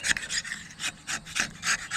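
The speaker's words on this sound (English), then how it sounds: "this thing is a heck of a lot easier to just clean off with a sharp edge" Lawn mower blade scraped clean with a sharp edge, a run of close, rhythmic rasping strokes, about eight short scrapes in two seconds with no talk.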